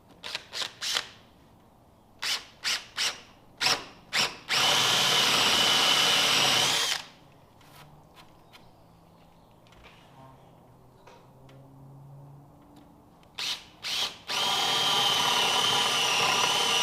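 Power drill boring into wood to countersink a bolt head and washer for barn doors, heard as several short bursts followed by two sustained whining drill runs, close and loud, with quiet pauses between.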